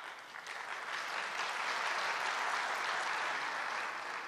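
Sustained applause from a large audience at a mayors' meeting in a congress hall, dense steady clapping throughout without a break.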